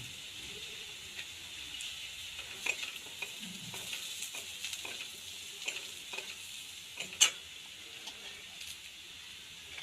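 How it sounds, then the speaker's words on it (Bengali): Potatoes and onions with turmeric are stirred and fried in a pan, with a faint, steady sizzle and repeated scraping stirs and clinks at irregular intervals. "এবার এটাকে একটু নেড়ে চেড়ে ভেজে নেব।"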